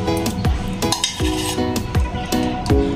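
A spoon scrapes and clinks against a metal dish while masala is mixed into chicken, in repeated strokes about every half second, loud and close, with no talking.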